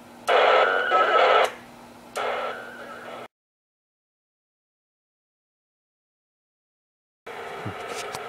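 Winlink HF radio data transmission at about 10 watts: loud bursts of buzzy digital tones in two stretches, then several seconds of total silence before the signal resumes more faintly.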